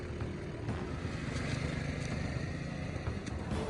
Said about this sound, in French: Jonathan Binet est remonté sur son scooter et s'est enfui.